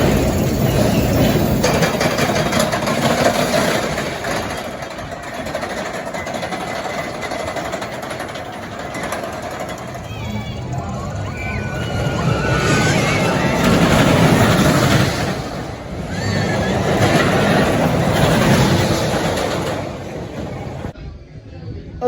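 Prairie Screamer roller coaster ride at Six Flags: loud rumbling and rattling of the train on the track with wind roar, rising and falling over twenty seconds, with voices and shouts mixed in.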